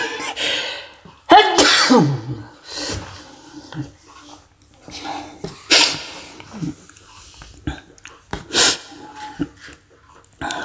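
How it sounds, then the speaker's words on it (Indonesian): A single loud sneeze bursts out early, followed by sniffs, breaths and scattered noises, with quiet gaps in between; no speech is heard. "Maaf lagi bersin."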